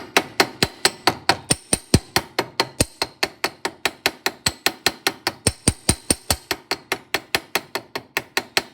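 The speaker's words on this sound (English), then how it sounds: "we're going to start to go in with this side of the ball peen hammer" A ball peen hammer rounds a rivet head into a cup shape, with a fast, steady run of sharp metallic strikes, about four per second, close and alone.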